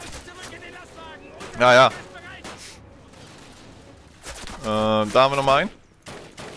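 Gunfire from the Call of Duty video game, a rapid clatter of shots spread through the background while someone talks over it, with bursts of louder speech on top.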